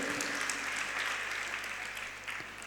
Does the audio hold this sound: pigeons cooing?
no